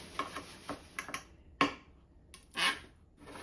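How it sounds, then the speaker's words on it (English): Light plastic drop cloth crinkles and taps come in scattered bursts as an air-conditioner draft blows it, with a few louder rustling flaps, close by and otherwise quiet. "That noise was air conditioner blowing my plastic sheeting, my drop cloth."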